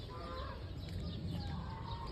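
Geese at a park lake give scattered, faint clucking and honking calls over a noisy outdoor background.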